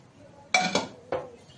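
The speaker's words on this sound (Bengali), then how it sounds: "আমি এবার মাটনটা এর মধ্যে ঢেলে দিলাম" Cooked mutton for keema ghugni is tipped into a metal cooking pot, giving two short, close clattering scrapes of cookware against a quiet kitchen background.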